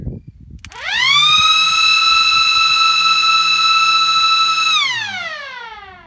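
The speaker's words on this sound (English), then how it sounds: "I got some of these 12-volt air raid sirens" Three 12-volt air raid sirens mounted on an off-grid mobile kitchen trailer wind up quickly, hold a loud, piercing, sustained wail, then wind down as the pitch falls away.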